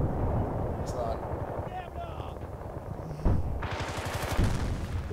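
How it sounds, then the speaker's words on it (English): Gunfire in the video game Battlefield: Bad Company 2 cracks out in scattered shots and short bursts with explosive booms, mixed under a player's voice talking over the game. "Who are you shooting at?"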